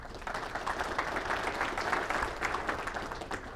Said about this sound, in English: clap for me if you have a daughter